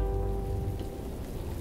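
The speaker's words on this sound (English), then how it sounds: "It's going to rain!" Steady rain falls on a surface in an unbroken, moderately loud hiss with broad low rumble, and no voices are present.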